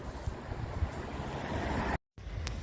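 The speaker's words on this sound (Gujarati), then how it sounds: "પવન પણ છે." Wind buffets the microphone in a low, steady roar on a very cold day on a residential street in Canada, cutting out briefly near the end.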